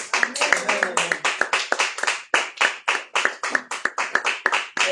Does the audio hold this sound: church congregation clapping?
yes